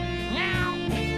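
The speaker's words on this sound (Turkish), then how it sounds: "Bu kedi böyle bağırdıkça aklımı toparlayamıyorum ki" A cat gives a loud, close, drawn-out meow, then a second shorter cry, rising and falling in pitch.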